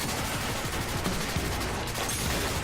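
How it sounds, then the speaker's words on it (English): Rapid bursts of quantum carbine rifle fire in the video game Quantum Break, a dense continuous rattle of shots over constant game noise. "No one's immune to the quantum carbine rifle."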